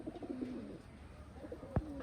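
A pigeon being handled and shown for sale gives soft, low cooing over faint background murmur, with a brief sharp knock or tap near the end.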